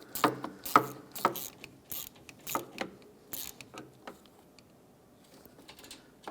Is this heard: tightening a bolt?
yes